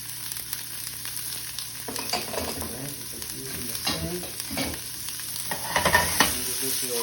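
Peppers and onions hit a hot pan for huevos rancheros, giving a steady close sizzle with scraping stirs and tossing clatter that swell near the end, no talking.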